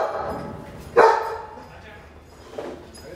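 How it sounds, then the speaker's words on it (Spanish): A dog barks indoors during a conversation: one sharp, loud bark near the start, then a fainter yip a moment later, with people talking around it. "Disculpen el incidente perruno."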